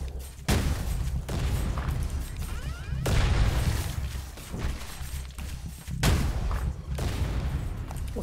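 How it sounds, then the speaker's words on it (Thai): Cannons fire in the survival game Night of the Dead. Heavy booms land every second or so, loud and close, over a dense, constant wash of gunfire and crackling impacts. "โอ้เสียงปืนใหญ่แม่งแน่นจัด"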